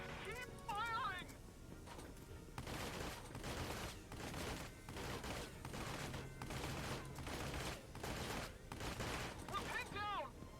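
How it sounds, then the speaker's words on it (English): Rapid volleys of gunfire crackle through a Valkyria Chronicles 4 battle, dense repeated bursts running almost continuously at moderate level, with brief tonal game sounds at the start and end. "Keep firing!"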